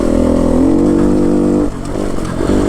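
A Beta 125 RR LC four-stroke dirt bike engine revs loudly and close, holding a buzzing high-revving note, dipping briefly, then climbing again.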